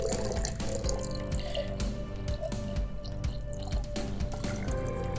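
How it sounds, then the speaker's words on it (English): Liquid sample poured slowly into a sensor T tube, a steady trickling and dripping with light splashes that runs continuously and fairly close throughout. "When pouring your sample into the T, be sure to pour slowly so that no air bubbles are in front of the sensor."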